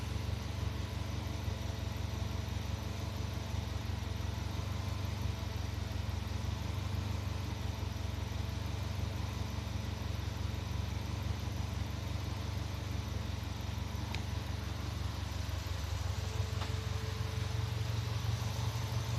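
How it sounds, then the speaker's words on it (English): A Subaru EJ20 car engine idles steadily with a low, continuous rumble and faint vibration, no voices, holding an even level throughout. "Engine starting to idle good."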